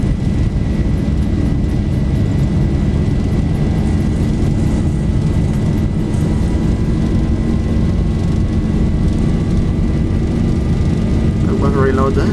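Boeing 737 jet engines at takeoff thrust in the X-Plane 11 flight simulator on a run from Oslo to Svalbard, a loud, continuous roaring rumble with a rising whine, heard close and steady throughout.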